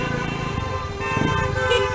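Several vehicle horns honk loudly and steadily together at a street protest, close by, over the rumble of engines.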